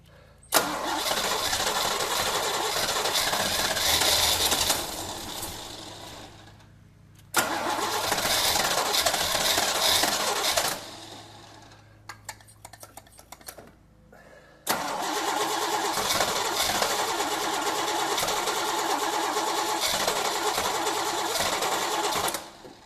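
A 1981 Chevy Camaro engine cranks and fires in three long bursts with brief gaps between them, a loud, steady mechanical churn throughout with no voices over it.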